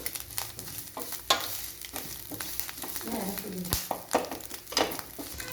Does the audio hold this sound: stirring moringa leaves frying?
yes